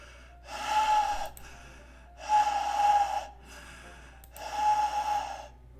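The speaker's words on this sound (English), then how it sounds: "It sounds like breathing. A sharp inhale, like someone is sucking air through their teeth." Three sharp inhales, like air sucked through teeth, come in a slow, evenly spaced rhythm over a faint background in the Doki Doki Literature Club video game.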